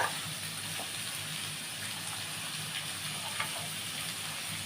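Beans, cabbage and capsicum frying in a pan for a veg masala papad roll, a soft, steady sizzle running quietly throughout with no talk.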